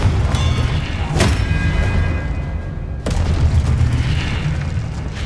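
A Confringo explosive spell bursts in Hogwarts Legacy, a loud booming blast followed by a second sharp crack and rumbling battle noise throughout, no speech.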